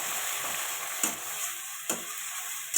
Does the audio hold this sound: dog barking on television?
no